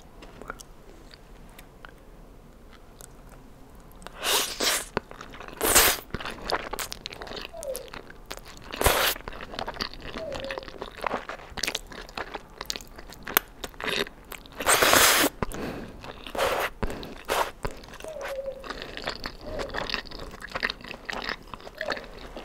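Close-up eating of spaghetti, salad and wine: soft crunching bites, wet chewing and occasional slurps, in irregular bursts over a quiet background with no talking.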